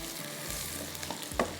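Onions browning in hot oil in a pan, a soft continuous sizzle with a couple of sharper stirring knocks near the end, close and without speech.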